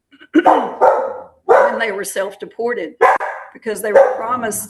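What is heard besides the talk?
dog barking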